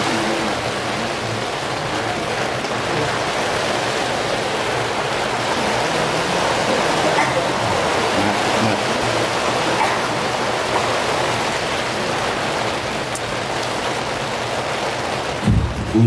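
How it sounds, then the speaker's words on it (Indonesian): Steady rain falling outdoors, a continuous even broadband hiss that holds at the same level throughout, with a faint low rumble underneath and no talk. "Hujan tuh biar adem"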